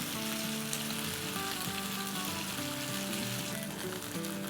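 Masala frying over a medium flame in a pot holding a whole goat leg: a dense, continuous close sizzle under a layer of background music.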